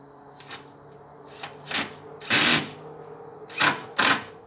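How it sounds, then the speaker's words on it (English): A drill drives screws into a clamped plywood board for a worm castings bin, giving five or six short bursts of whirring and grinding with brief gaps between them. "Now we just got to... burn some screws in."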